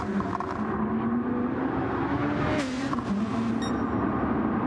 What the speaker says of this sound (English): They go flying down this stretch of track in 6th gear, flat out, full throttle through the sweeping turn,